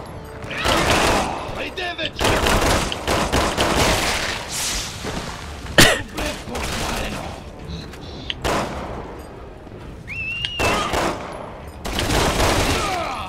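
Resident Evil 6 combat erupts in bursts of gunfire, volleys and single sharp shots spaced across the stretch with a heavier bang near the middle, while a player talks over the action.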